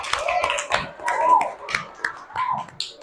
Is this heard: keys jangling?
no